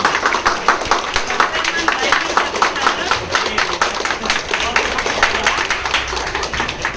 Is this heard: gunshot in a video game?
no